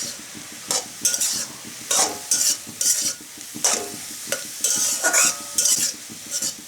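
A spatula scrapes through spinach in a pot in regular strokes, about a dozen over several seconds, over a light background sizzle, close and clear with no voices.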